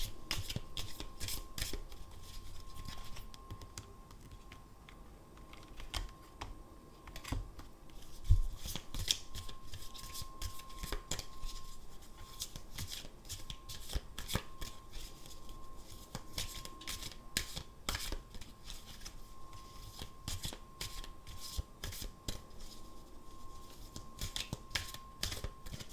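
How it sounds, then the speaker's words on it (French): Tarot cards are shuffled and drawn by hand, giving a long run of dense, crisp riffling and flicking bursts with small slaps as cards are laid down, close and fairly quiet with no talk. "J'aimerais quand même continuer à prendre quelques cartes sur les énergies générales."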